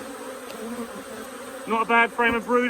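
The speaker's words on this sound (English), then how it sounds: "see how the forager bees, sorry, the robber bees are all surging around here looking for a free meal" Robber bees swarming around a beehive, a dense close buzz of many bees with someone speaking briefly over it near the end.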